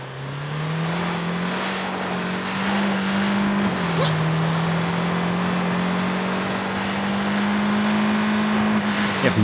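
A truck engine in the video game Far Cry 6 drones loudly and steadily while the truck crawls slowly in reverse. Its pitch shifts slightly partway through and it runs without a break, close and dominant.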